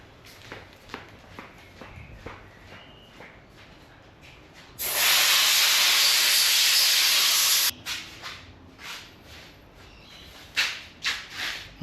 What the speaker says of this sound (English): Alright, I'll blow it out with the air compressor.